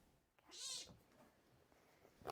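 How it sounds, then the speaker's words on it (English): A bobcat kitten at a wildlife center in Roanoke, Virginia gives one short, high, mewing cry, near and clear, followed by faint rustling and a brief second squeak at the end, with no talk. "The distinct sound of a bobcat kitten is once again heard at the Southwest Virginia Wildlife Center in Roanoke."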